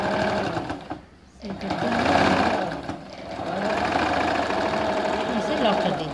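A sewing machine stitches straight-cut ladies' pants in quick mechanical bursts, pausing briefly before running again, with someone speaking over the whirring needle.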